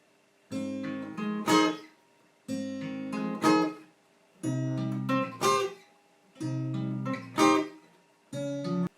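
Bright strummed guitar triads climbing up the neck in short repeated phrases, four bursts separated by brief pauses, played close and clear with no voices.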